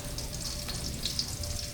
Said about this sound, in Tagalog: Sinasama ko sa gisa ang paminta guys.